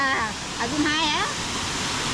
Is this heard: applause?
no